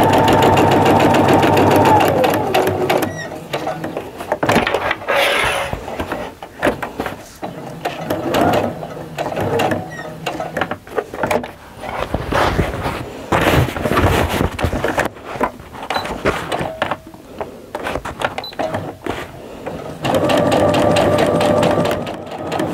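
A sewing machine stitching around the top line of a tote bag runs in a steady mechanical whir, with short pauses and bursts as the fabric is turned, close and fairly loud.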